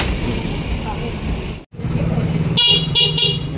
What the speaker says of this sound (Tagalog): Okay na yung horn.